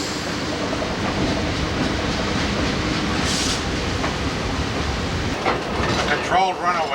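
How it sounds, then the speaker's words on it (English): Railroad cars rolling slowly down a ramp at a breaker, a steady rumbling roll with faint clanks and squeals near the end, under low background noise. "they're gingerly pulling the cars down the ramp"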